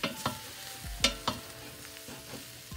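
A spoon stirs food in a pot with coconut oil, giving several distinct scraping clanks in an uneven rhythm over a soft frying sizzle, close and moderately loud with no talking.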